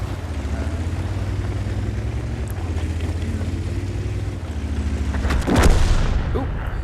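A tank cannon fires in a tank battle video game: one sharp boom near the end over a steady low engine rumble.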